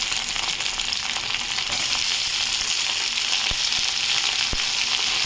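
Potato, chilies and tomato fry with onions in a pan, a dense and even sizzle held close throughout, with a couple of faint knocks and no talk.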